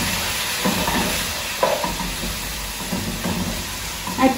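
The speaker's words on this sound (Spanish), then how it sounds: "Ya los camarones quedaron bien fritos. Y ahora sí, vamos a menear muy bien." Fried shrimp are stirred in a hot pan, with a constant close sizzle broken by several scraping strokes of a utensil and a louder stir near the end.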